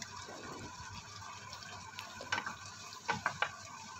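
Water poured into a cooking pot for boiling peaches, a soft running gush with a few brighter splashing bursts toward the end, close by and fairly quiet, no talk.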